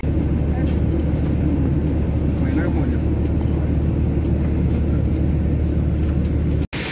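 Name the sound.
airplane at the airport during boarding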